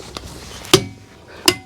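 Hub cap on a 2002 Dodge Dakota SXT front wheel tapped back into place: two sharp, close knocks about three-quarters of a second apart, with a faint tap just before.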